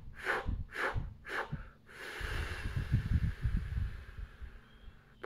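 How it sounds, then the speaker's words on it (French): Paced breaths during a vocal warm-up exercise: three sharp, close inhalations in quick succession, then a longer, steady release of air with a rough, breathy rumble that trails off. "J'inspire, je relâche."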